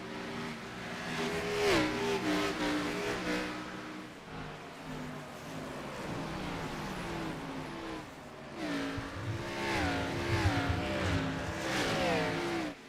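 Stock race cars roar around an oval track, their engines revving and sweeping up and down in pitch as the cars pass in a continuous, loud drone.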